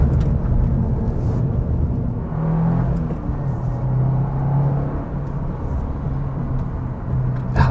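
A 2024 Subaru WRX TR cruising on smooth tarmac, heard from the cabin as a steady low engine and road rumble with mild rises in engine tone.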